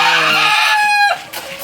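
Backyard chickens, including chicks, hens and roosters, clucking and crowing close by, a loud sustained call sliding down in pitch, then quieter squawks; no talking.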